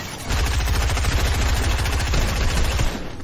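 Rapid bursts of gunfire in the video game Fortnite, during a zone wars battle, rattle steadily for about three seconds as dense repeated shots, loud and close, with no talking.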